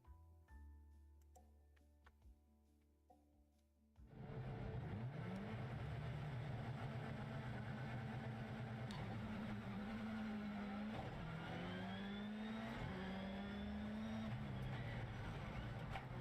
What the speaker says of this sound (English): Bus versus 600 horsepower race cars.